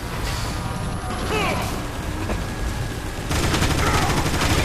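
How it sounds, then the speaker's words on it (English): Sniper fire in the Transformers: War for Cybertron video game, a sustained crackling, mechanical barrage that grows louder and denser toward the end over a constant battle din. "I can't work when I'm getting shot at!"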